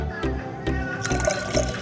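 Water is poured into a ragi flour mixture for ragi java, giving a splashing, gurgling pour in uneven bursts. A person talks over it.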